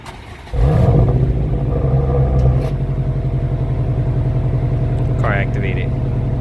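A 2019 Subaru STI engine fires up by remote start, a sharp crank and catch that rises to a loud rumbling rev, then settles into a steady idle, with a short electronic chirp from the car toward the end.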